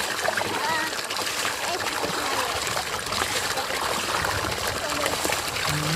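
A child bathing in cold water makes continuous close splashing and trickling, with voices talking over the water.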